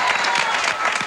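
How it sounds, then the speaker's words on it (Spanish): Studio audience applause at a Venezuelan television comedy show, a steady dense wash of clapping filling the whole moment, loud and close with no break. "un aplauso para Jordi"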